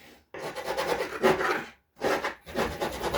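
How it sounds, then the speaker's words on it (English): Old paint being scraped off a reclaimed wooden panel, loud rough rasping strokes in three long bursts separated by short silent pauses, close up and alone. "And I am scraping."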